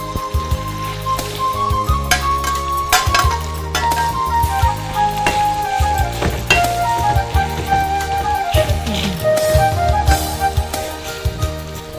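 Pounded bitter gourd fries in a hot pan, a crackling sizzle with repeated clinks and scrapes of stirring, close and continuous, while a faint tone runs beneath.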